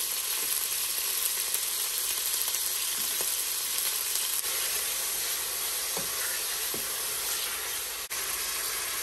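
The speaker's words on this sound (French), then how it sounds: "Then I'm going to add my beef." Beef sautés in peanut oil with a loud, steady sizzle, broken by occasional small clicks and scrapes from stirring, close up and without talking.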